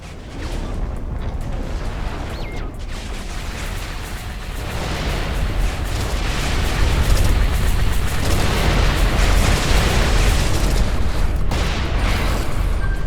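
A detonated target exploding in the space combat game Everspace 2: a sustained rumbling blast that swells and grows louder past the midpoint, with crackling bursts over a deep low roar, and no talk.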